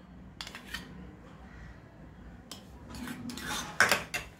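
A spoon mixes chicken filling with mayonnaise and chilli flakes in a bowl for a club sandwich, making a few close scrapes and clinks. The stirring comes in short bursts with quiet gaps between them.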